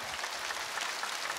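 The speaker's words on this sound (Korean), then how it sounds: "박수 주시기 바랍니다." A steady wash of clapping from a TV singing contest audience, dense and continuous, with no voices standing out.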